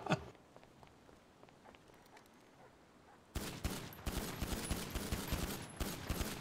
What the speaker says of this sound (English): I hear a bunch of gunfire.